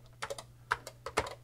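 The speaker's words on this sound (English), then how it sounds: "So what we'd want to do is go into BASIC and type run" Keystrokes on a Model 100 computer keyboard, a quick burst of about eight distinct clicks in an uneven rhythm, close and clear with no talking.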